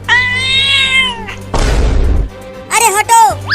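A cartoon cat gives a long drawn-out meow, then a burst of noisy crashing, followed by shorter rising-and-falling yowls, loud and close.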